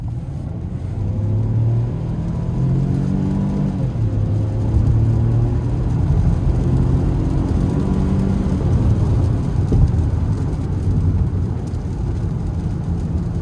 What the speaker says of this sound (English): We're gonna try to give it a pull getting on the interstate here.